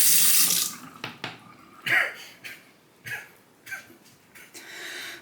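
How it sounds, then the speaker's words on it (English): Tap water splashes in short bursts as a sharpening stone is rinsed under it, the first burst loud and the rest intermittent and nearby. "Rinse off the stone."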